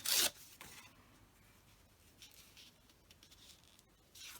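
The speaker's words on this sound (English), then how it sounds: "I'm just going to tear that." Paper being torn for a handmade Christmas journal insert with flip-outs: one short, loud rip at the start, followed by faint rustling and handling in a quiet room.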